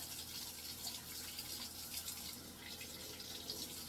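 Water runs from a tap to rinse a bottle-brush cleaning straw, a steady, hissing splash at low level with no talking.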